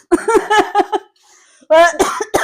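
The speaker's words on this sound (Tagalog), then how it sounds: "pasensya na guys ha, kay dahil mga ubo lagi" Several sharp coughs in a quick burst, close and loud, then a short pause before another harsh round of coughing.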